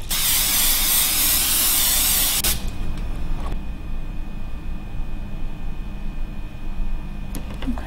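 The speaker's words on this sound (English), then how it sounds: "if you're using spray mount, you really need to have windows open" Steady, loud hiss of spray mount adhesive being sprayed onto Japanese paper for a wedding invitation craft, lasting about two and a half seconds before cutting off to quiet room tone with faint clicks.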